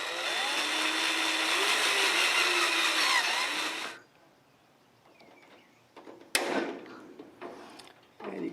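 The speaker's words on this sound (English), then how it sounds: "I'm going to put a rivet in the front as well." Gutter pieces from Lowes being fastened with a rivet: a loud, steady power-tool whine for about four seconds cuts off abruptly, followed by quieter handling noises and a sharp snap near the end.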